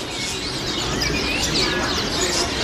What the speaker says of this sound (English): absolutely thousands of birds